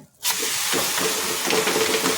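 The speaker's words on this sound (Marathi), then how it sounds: "आता आपण थालीपीठ जे आहे ते घालून घेऊया" Thalipeeth batter of sprouted horse gram and moong hits a hot tawa on the gas stove and sets off a loud, steady sizzling hiss. It starts abruptly after a brief silence and runs unbroken with no speech.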